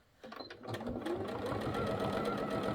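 A sewing machine runs steadily for free motion couching quilting, its fast rhythmic stitching starting abruptly and holding a close, even drone with no talk.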